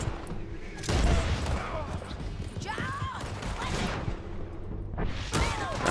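Gunfire from Red Dead Redemption 2 while hunting on PC, several sharp shots spread across a few seconds with whooshing and hoof-like clatter, over continuous game ambience and a voice talking.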